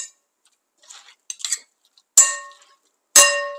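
Two metal spoons stir thick strained yogurt with olive oil, making soft scraping taps followed by two bright ringing clinks of metal that decay slowly, close and clear in otherwise quiet surroundings.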